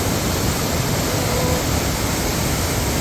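A waterfall in Betws-y-Coed, Wales roars in a steady, dense broadband rush of flowing water, loud and continuous throughout with no pauses or talk.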